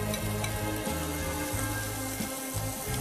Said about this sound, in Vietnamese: nấm chúng ta cũng đã chín rồi thì chúng ta cho hành tây vô